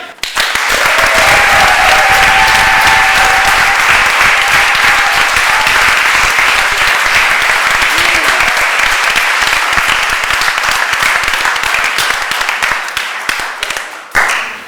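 A theatre audience applauds loudly and steadily after a stage comedy performance, a dense continuous wash of many clapping hands that holds for about fourteen seconds before cutting off.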